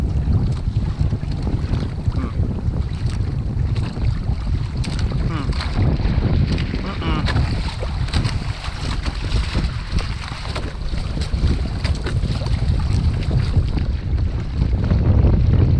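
A Hobie Tandem Island sailing kayak moves under wind power, with steady loud wind buffeting and rushing water over the whole stretch and a little talk in the background.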